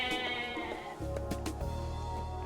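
Goats in the strategy game Age of Mythology give a couple of nasal, wavering bleats that sit clearly over a dense layer of game music and ambient sound.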